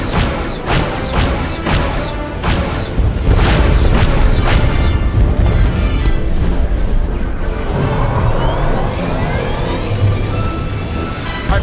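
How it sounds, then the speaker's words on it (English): Starship weapons fire and explosions from a Star Wars: The Old Republic space battle: loud, dense booms and rapid blaster shots overlap for the first half, giving way to a rumbling, roaring backdrop with scattered whooshes. "Friendly ships are opening fire."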